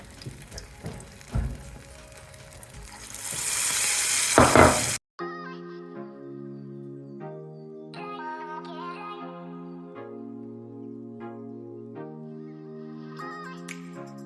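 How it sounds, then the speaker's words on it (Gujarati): Pinwheel cutlets fry in a shallow layer of oil with a rising hiss and sizzle for a few seconds, then the sound cuts abruptly to background music. "આ જ પ્રમાણમાં બધી જ કટલેટ આ પ્રમાણે આપણે લઈને એને કરી નાખશું ફ્રાય."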